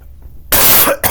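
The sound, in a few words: cough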